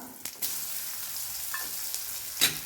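Coconut pieces sizzle in hot oil with popped mustard seeds while a stir-fry of potato yam is being made, a continuous close frying hiss with a few stirring scrapes and no talking.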